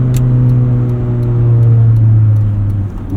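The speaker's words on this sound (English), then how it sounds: "Engine is revvy" A 1988 Honda CRX Si engine drones steadily from inside the cabin while driving, a loud mid-pitched hum with light revving swells and no talking.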